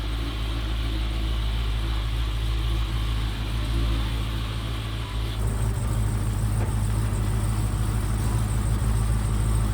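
A Jeep Trackhawk with a Dodge Demon engine swap idles outdoors, a steady deep rumbling engine note that holds evenly for about ten seconds, close and fairly loud with no talking.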